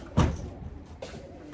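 Pigeons at a coop give a short, fairly close coo, followed a moment later by a fainter second call over quiet background.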